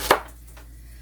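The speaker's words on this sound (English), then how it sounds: "Get this get the celery all chopped up." A single sharp knife chop through celery on a cutting board, one close, crisp thud followed by a faint softer tap and quiet room tone.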